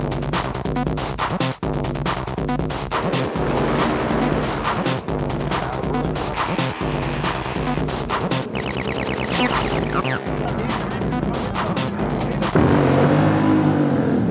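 Racing motorcycles on a dirt speedway-style track, like speedway bikes with brakes and superbike power, roar and rev in overlapping, fluctuating engine notes, loud and close, with pitch sweeps as bikes pass and a deeper engine drone near the end.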